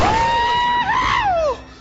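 A person lets out a loud, sustained excited scream while playing Red Dead Redemption: Undead Nightmare, a single rising-and-falling shriek of nearly two seconds that drops off at the end, with no other talk.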